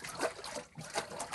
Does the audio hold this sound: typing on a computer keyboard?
no